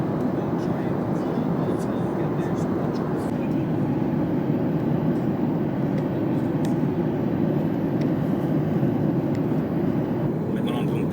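Inside an airplane cabin while passengers disembark, a steady loud broadband roar fills the space, with faint clicks and light movement noises scattered over it.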